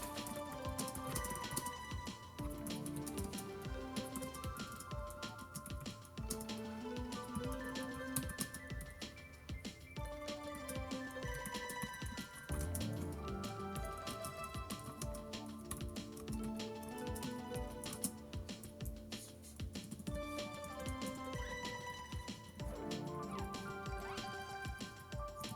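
Keys tapped on a Logitech K380 keyboard make a quiet, steady run of light clicks that keeps going for about twenty-five seconds, with no voices over it.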